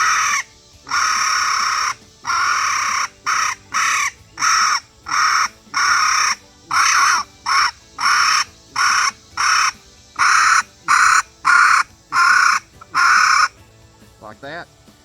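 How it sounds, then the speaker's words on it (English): A mini coon squaller predator call blows a rapid series of short, harsh squalling bursts, close and loud, with a brief warbling note at the end. "The next one would be the mini coon squaller."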